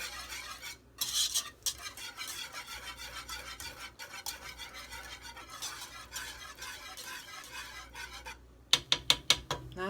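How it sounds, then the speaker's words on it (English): Spoon scraping and stirring spices into a thick cheese sauce in a pot, a soft continuous rasping swirl with a few sharp metallic taps near the end. "Stir those in."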